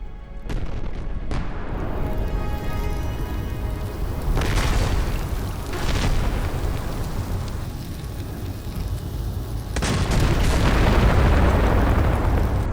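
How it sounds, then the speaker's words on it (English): Ammunition cooking off in a fire sets off a chain of heavy explosions, loud booming blasts arriving one after another over a constant roar and crackle, with a powerful burst near the end. "The ammunition begins to cook off one by one, causing a chain reaction that leads to this."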